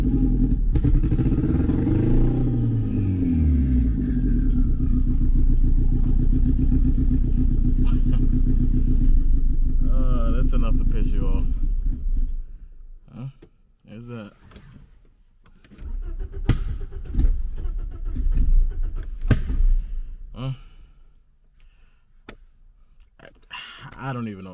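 A turbocharged BMW E36 318ti with an M42 four-cylinder and Microsquirt engine management fires up and runs loudly and steadily for about twelve seconds. It then drops to a quieter idle, with someone talking over it.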